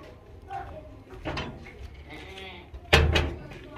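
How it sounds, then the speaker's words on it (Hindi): Tall, long-bodied purebred goat bleating loudly up close once near the end, after fainter earlier bleats and rustling in the background. "बहुत ही खूबसूरत और नस्ल वाली बकरी है, ऊंची लंबी खूबसूरत।"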